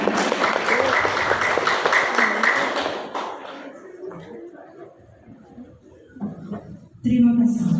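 A school graduation and farewell ceremony for departing students, where a crowd claps loudly and steadily for about three seconds, then fades into murmuring and voices before a brief burst of noise returns at the end.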